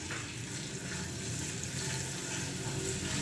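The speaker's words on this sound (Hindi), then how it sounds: "अदरक लहसुन के पेस्ट को थोड़ा सा पका लेंगे" Ginger garlic paste frying in oil in a pan, a soft, even, continuous sizzle heard close at low level without pauses or talking.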